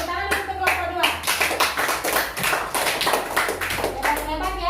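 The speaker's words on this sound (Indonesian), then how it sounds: "Oke, tepuk tangan untuk kelompok 2" A classroom of children applauds a student group, a dense burst of clapping that carries on for several seconds, with children's voices mixed in.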